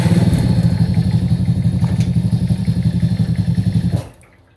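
Small Masaï Greystone 50cc motorbike engine chugging steadily nearby with a fast, even low putter, then abruptly cutting out as it stalls, leaving near silence.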